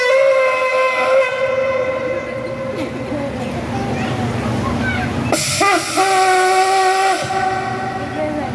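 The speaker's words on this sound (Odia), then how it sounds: "ତୃତୀୟ ପର୍ଯ୍ୟାୟ ହେଉଛି ତେରୁଆ, ଯାହା 9 ଥର ସର୍ଟଲି ତୁରୀ ବାଦ୍ୟ ହେବ" Turi trumpet blasts during a Teruah call at a church liberation proclamation: sustained, loud brass-like tones with shifting pitch and a short break partway through, with voices faintly underneath.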